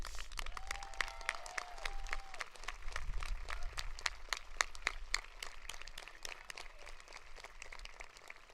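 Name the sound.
graduation audience round of applause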